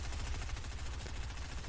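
Rapid SMG fire in a Fortnite match rattles in a dense, continuous burst of closely spaced shots, loud and steady throughout the short stretch.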